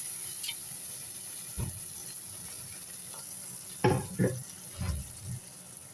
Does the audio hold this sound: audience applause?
no